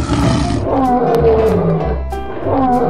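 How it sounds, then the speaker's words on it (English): A lion roars loudly and close in a few long, rumbling, rising-and-falling calls, standing alone with no talk. "Lion."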